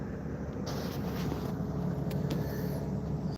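A topsoil screener's motor runs steadily nearby, a low continuous engine drone with a faint higher whine, even and unbroken with no voices.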